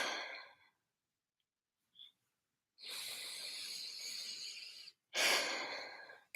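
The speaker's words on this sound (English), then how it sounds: "I'll do one more deep breath." A slow, deep breath drawn in and let out during a guided tapping session: a long airy inhale, a pause, then a strong whooshing exhale, close and alone with no talking.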